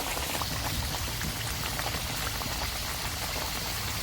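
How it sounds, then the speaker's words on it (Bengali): Hot oil bubbles and crackles steadily as samosas fry on low heat, a dense, even sizzle throughout with no voices. "এবার সিঙ্গারাগুলো ভেজে নেবো"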